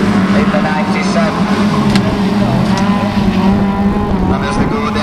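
Autograss race cars at a national meeting snarl around a dirt track, a constant layered drone of several engines with a steady low growl, loud throughout under a commentator's voice.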